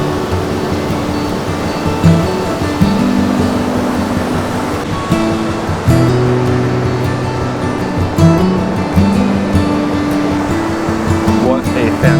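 Steady rushing of a Wisconsin waterfall and river on a misty spring morning, a continuous broadband roar close by with low tonal hum mixed in, no voices over it.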